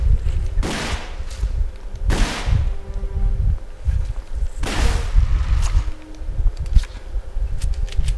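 Fire bullets shot in the video game Alone in the Dark: three loud, sharp gunshot blasts spaced a couple of seconds apart over a steady droning game background.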